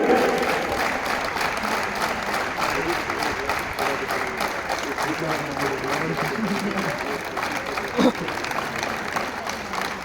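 Children applaud loudly and continuously at a district-level school sports meet, a dense, steady wall of clapping from a large crowd that barely varies, with voices faintly mixed in.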